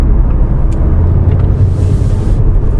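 An Audi A3 8Y slows into a roundabout, its road rumble and low drivetrain noise heard loud and steady from inside the cabin as it eases off the throttle and brakes.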